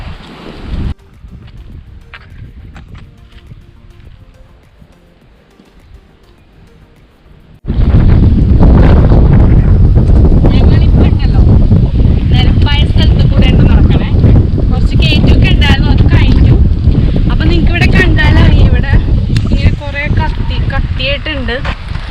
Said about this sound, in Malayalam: അപ്പോൾ ഇവിടെ നല്ല തണുത്ത കാറ്റുണ്ട് കേട്ടോ